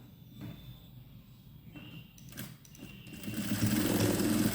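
An electric sewing machine stitches the seams of an A-line kurti, with short bursts of whirring separated by pauses, then a longer, louder continuous run near the end.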